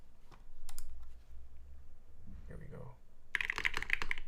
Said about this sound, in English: this is the typing test of the Mode Sonnet